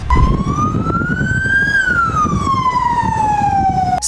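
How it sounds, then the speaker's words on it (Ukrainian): An ambulance siren wails loud and close on a street in Dnipro, one long tone sweeping slowly up and then gliding back down, with traffic rumbling underneath. "пропускали автомобілі з проблисковими маячками та сиренами"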